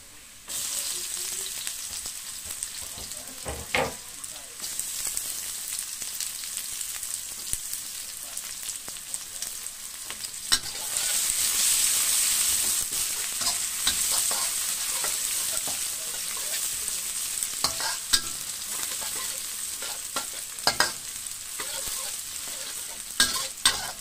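Sliced onions fry in a pan for kembung fish in tamarind broth, a steady sizzle with scraping stir strokes and clinks of a utensil throughout, close and moderately loud, with no talking.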